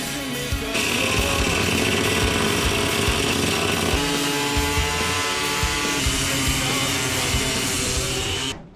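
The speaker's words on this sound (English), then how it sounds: "I'm going to use the cutoff wheel just to cut this panel on the outside" Cutoff wheel slicing through an outer body panel on a Nissan 240SX: a loud, continuous high-pitched grinding whine that starts abruptly and runs nearly nine seconds before cutting off, close up with no talk.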